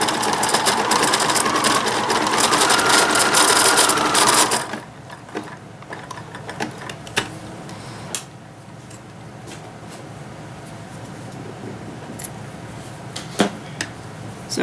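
A sewing machine stitches the back seam of small doll panties, a steady loud whirring run for about four seconds, then stops, leaving quiet room noise with a few faint clicks and handling sounds.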